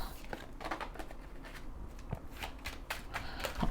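A tarot card deck shuffled by hand at close range, giving quick papery riffles and soft flutters in uneven bursts with no voices.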